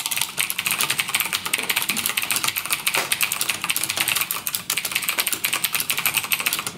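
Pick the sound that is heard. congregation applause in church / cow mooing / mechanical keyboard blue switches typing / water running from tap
mechanical keyboard blue switches typing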